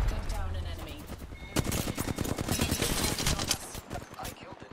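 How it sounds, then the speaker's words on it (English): Rapid bursts of automatic gunfire rattle through an Apex Legends firefight, with sharp repeated shots in irregular volleys, some near and punchy, mixed with game effects and background voice chatter. "The enemies are shooting at me."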